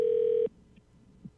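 A single steady electronic phone tone sounds for about half a second as a live call is placed during a podcast recording, then cuts off abruptly, leaving faint room noise with a few soft bumps and no talking.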